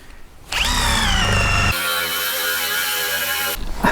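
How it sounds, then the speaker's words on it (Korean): An angle grinder-style power tool cuts along a marked line in the steel plate of a gas cylinder, a loud, steady high-pitched whine that shifts in pitch partway through and lasts several seconds, with no voices. "이렇게 철판 자를 때 제가 경험삼의 팁을 하나 알려드리면 지금처럼 먼저 한번 쭉 선을 따라서 재단선을 따라서 한번 갈고 그 홈을 파주고요"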